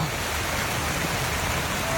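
Steady rain pours down on an outdoor football game where players take turns kicking balls at a stacked drum tower; a dense, even hiss of falling water fills the whole stretch without a break.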